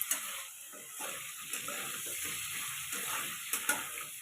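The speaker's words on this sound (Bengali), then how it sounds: "ঢাকাটা খুলে আমি আবারও নাড়িয়ে চাড়িয়ে দেব।" Vegetables frying in a pan for a thin Bengali fish curry with potatoes and greens, a steady sizzle with soft scraping stirs and occasional clicks of the spoon against the pan, close and continuous with no voices.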